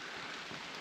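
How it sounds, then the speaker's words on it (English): Rain patters steadily on a wooded hiking trail in a state park, a dense, even hiss of drops with no voices, close and continuous for a brief moment. "So it is raining, but that's all right."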